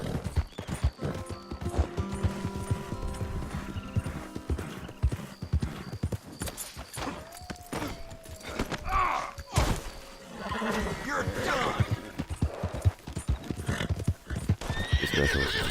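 A horse in Red Dead Redemption 2 clip-clops along with rhythmic hoof beats and gives a clear whinny partway through, with thuds and other game sounds around it.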